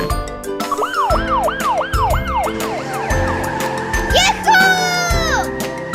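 A toy-style police car siren wails in rapid repeating up-and-down sweeps, close and loud, then shifts to a higher warbling pattern over low rhythmic music, with a voice speaking over part of it.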